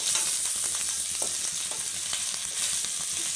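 Brinjal, potato and carrot pieces sizzle steadily in hot oil in a pan, with scattered clicks and scrapes as they are stirred, continuous and close.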